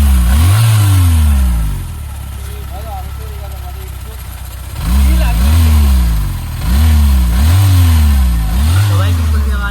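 Yamaha MT15 motorcycle engine running close up while its tappets are checked, with loud repeated throttle blips that rise and fall over a steady idle, including a quieter idle stretch in the middle.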